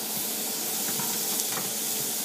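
Food with garlic and thyme sizzles steadily in a pan, a close, even, hissing fry with faint crackles and no talking.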